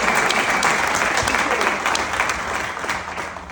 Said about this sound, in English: So big round of applause, help me welcoming Ricardo from Shilling.